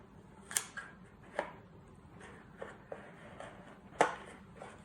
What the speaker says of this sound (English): take a sharp pair of scissors